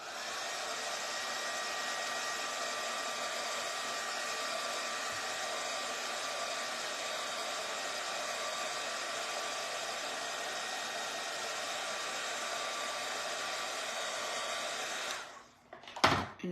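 A hair dryer blows a steady, loud whir while drying a freshly stained fabric quilt square for a floral quilt kit. It runs unbroken for about fifteen seconds, then switches off with a brief clatter.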